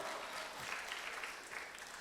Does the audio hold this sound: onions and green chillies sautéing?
no